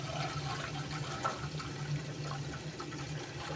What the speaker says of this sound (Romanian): Eu vreau să arunc prima apă de pe picioare